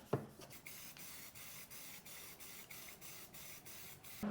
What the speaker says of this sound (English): to prime this thing with weld-through primer on the back side